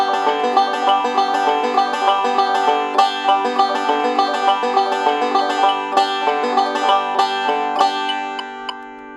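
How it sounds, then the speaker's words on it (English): Banjo picked against a metronome set to 200 beats per minute: fast, even plucked notes ring bright and close, a dense steady rhythm that tapers slightly at the end, with no voices. "if I wanted to kick that up a lot and I put it up to 200 clicks, it would start to sound something like this."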